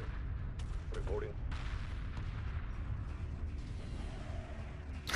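Space battle gunfire in the video game Homeworld Remastered, a low rumbling barrage of distant cannon fire with sharp bursts and mechanical creaks layered over a steady hum, with no voices.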